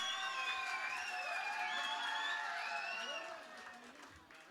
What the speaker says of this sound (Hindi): एक बार जोरदार तालियां सबके लिए,